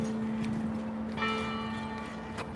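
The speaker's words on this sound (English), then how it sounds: "I like the church bells." Church bells ring outdoors in St. Paul, a few distant metallic strikes with lingering tonal decay over a steady low hum of ambient noise.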